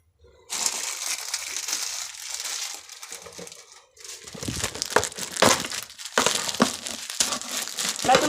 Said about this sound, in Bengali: চিড়েটা গুঁড়ো করবো